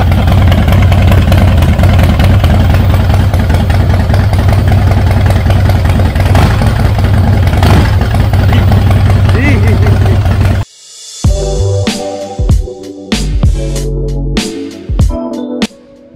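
A motorcycle engine runs loud and close at a steady idle, a dense continuous rumble that lasts about ten seconds before cutting off abruptly, after which music plays.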